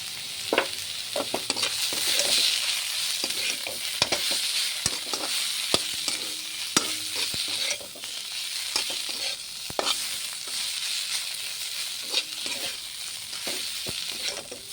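Spinach and eggplant frying in ghee hiss steadily up close while a spatula stirs and scrapes the pan in irregular sharp knocks throughout, with no voices.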